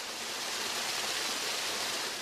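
Artificial waterfall at a hospital, a steady rushing hiss of falling water, broad and continuous, heard alone at a moderate level.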